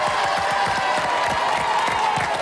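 Studio audience clapping and cheering for the white team on a French TV game show, a dense, steady wash of applause with scattered whoops, loud and continuous throughout.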